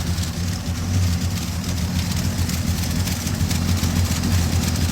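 A 1972 Chevy truck engine idles on a newly fitted carburetor after six years without running, giving a steady, close, low rumble with an even, slightly lumpy pulse throughout.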